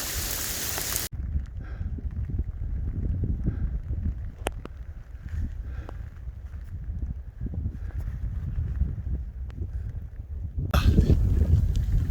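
Gale-force wind roaring through the bush on the Cooloola Great Walk with rain driving down, a rumbling low buffeting that hits the microphone steadily and surges louder near the end, no voices.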